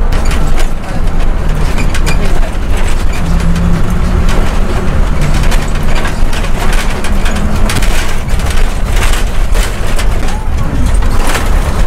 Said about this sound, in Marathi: खूप आवाज येतो गाडीचा